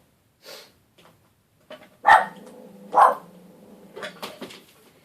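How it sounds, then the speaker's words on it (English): A dog barks a couple of times in a quiet room, with scattered clatter and faint household noises around the barks. "my dog is barking because she's a brat"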